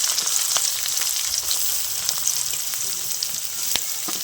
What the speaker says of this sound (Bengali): এবার পেঁয়াজটা আমি হালকা করে ভেজে নেব।